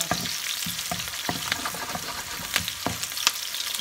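Onion sautéing in hot oil for ginataang alimango (crab in coconut milk), a steady crackling sizzle broken by repeated scraping stirs close by, with no voices.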